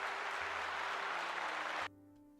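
A quiet burst of steady crowd applause that cuts off abruptly near the end, leaving faint background hum.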